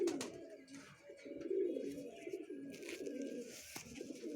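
A Punjabi Malwai pigeon and its loft mates keep up a continuous low, burbling coo, close by and fairly even, with a few faint higher chirps overhead.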